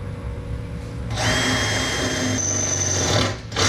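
A power drill bores a hole into a custom-built fuel cell, whining up sharply after a quiet second, grinding steadily for about two seconds, then dipping briefly and revving again, close and loud with no speech.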